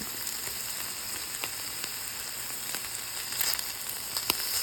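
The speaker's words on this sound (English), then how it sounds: "Eggs are now frying up" Eggs fry in a pan with a steady, even sizzle and scattered soft pops, moderately close and alone with no talk.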